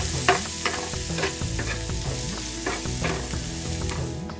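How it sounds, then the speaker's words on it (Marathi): Chopped coriander fried with garlic in a pan for butter garlic chicken makes a steady, loud sizzle with repeated rhythmic scraping and clicking of a stirring utensil throughout, with no voices. "कोथिंबीर पण व्यवस्थित असे फ्राय करून घेऊ।"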